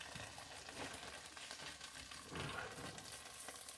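Onions and potatoes frying in a pan for potato soup, a steady close sizzle and crackle that carries on without a break, with faint stirring scrapes.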